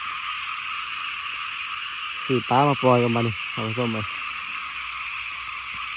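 Frogs croak in a short cluster of rapid repeated calls over a constant shrill insect drone, and a voice speaks briefly.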